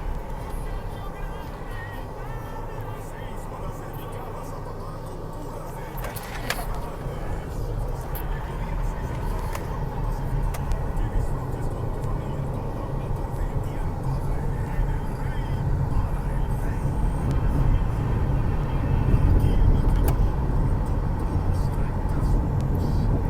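A 2012 Hyundai Sonata, a cheap rebuild, on a test drive: a steady engine and road rumble from inside the car that builds gradually, with a voice talking over it.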